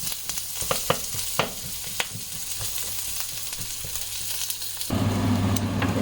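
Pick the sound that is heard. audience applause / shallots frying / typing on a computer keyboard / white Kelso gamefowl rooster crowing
shallots frying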